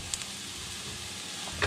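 Mushrooms sizzle and crackle steadily in a pan with butter and a touch of olive oil, a close, even frying hiss with a slight stir near the end.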